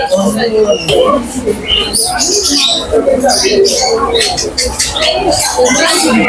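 Many birds chirp and tweet busily all around in an aviary at Alipore Zoo, Kolkata, a dense chorus of calls, with people's voices mixed in.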